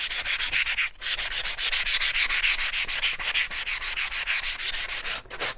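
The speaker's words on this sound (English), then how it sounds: "You always want to sand going in the same direction." Steady back-and-forth sandpaper rubbing on a painted wooden shiplap platter, strokes in one direction, rapid and regular with a couple of brief pauses, close and fairly loud.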